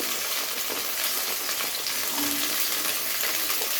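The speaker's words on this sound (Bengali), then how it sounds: "আর সঙ্গে দিয়ে দিচ্ছি বরবটিগুলো এই দুটোকে একসাথে ভেজে নিচ্ছি" Yardlong beans frying in oil in a pan, a steady, dense hiss of sizzling heard close up and at an even level throughout, with no talking.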